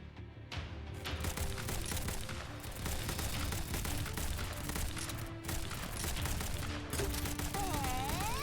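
M1 Garand rifles firing in a video game, a dense stream of overlapping shots and impacts running the whole way through, with game music and effects layered underneath.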